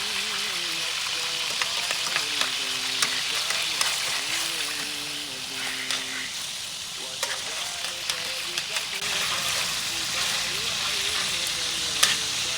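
Shrimp sizzle and fry in a pan while being stirred, a dense continuous hiss close up with scattered clinks, and a voice briefly speaking over it early on.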